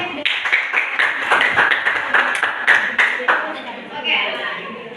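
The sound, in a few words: classroom clapping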